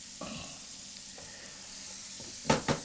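A burger patty for a Mid City LA mega burger slow-cooks in a covered pan, giving a soft, steady, quiet sizzle, with a few sharper clinks or pops near the end.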